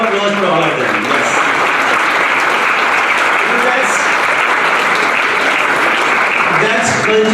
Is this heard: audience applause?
yes